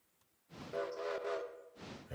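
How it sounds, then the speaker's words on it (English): Signal whistle of a train in the Railroader video game, a sustained tonal blast of about a second that cuts off and briefly sounds again, clear and prominent with no talking. "The wrong signal whistle."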